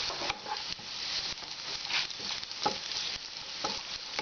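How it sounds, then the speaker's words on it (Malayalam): Onions, cashews and raisins fry in hot oil for a biryani garnish, giving a steady close crackling sizzle with scraping stirs and no talking. "എല്ലാം കൂടെ ഒന്നുകൂടെ ഒന്ന് ജസ്റ്റ് ഫ്രൈ ചെയ്തെടുക്കുക"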